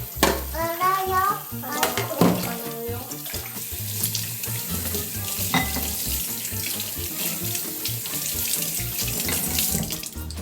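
Tap water runs steadily into a kitchen sink while dishes are washed up, with clinking and someone talking over the flow.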